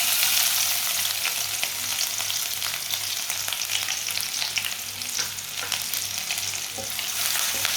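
Chopped onion frying in a pan with a steady, dense sizzle and occasional stirring scrapes, close and continuous throughout with no talking.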